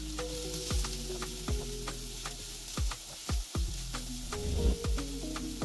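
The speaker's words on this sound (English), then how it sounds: "We let the mushrooms cook down till most of the liquid has cooked out" Mushrooms sizzling in a pan as they cook down, a steady frying hiss broken by repeated sharp ticks and taps of a utensil against the pan.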